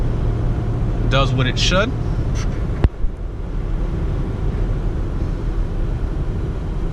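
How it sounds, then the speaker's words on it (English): Jeep Grand Cherokee Limited with a 4.7 engine and 68K miles, driving with steady road and wind noise inside the cabin, a single sharp knock partway through, and someone speaking briefly early on. "So we'll do some hard accelerations, some hard braking, turning, stuff of that nature"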